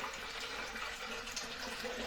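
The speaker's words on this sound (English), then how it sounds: "Now, we'll get some water here. Let's put some water in." Water runs steadily into a big plastic container, giving a continuous, fairly faint hissing splash with no pauses or talking.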